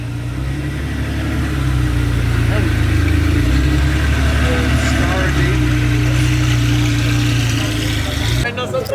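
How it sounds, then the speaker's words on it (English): An old Ferrari engine idles loud and close with a deep, steady rumble, then revs up briefly before settling back. "The old school Ferrari's rolling out, getting a little rowdy, revving it up for the boys."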